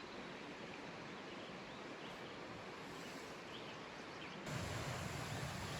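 Water rushing in a canyon stream in the Gila Wilderness, New Mexico, a steady broadband roar heard from a distance that swells slightly louder near the end.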